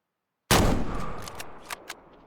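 One loud hunting rifle shot in Way of the Hunter on a winter hunt, a sudden close blast after silence, with a long rumbling decay and a couple of faint knocks as it fades.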